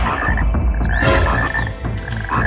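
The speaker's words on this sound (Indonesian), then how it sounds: "Kodok, ya Allah, baksonya isinya kodok semua hidup-hidup." Frogs croaking loudly and continuously at close range, with no talk, coming from a batch of bakso meatballs found to be full of live frogs.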